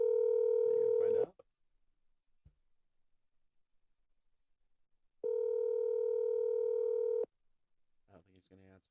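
A phone call rings out through an earpiece, two long steady tones separated by a few seconds of near silence, clean and close, with no one answering.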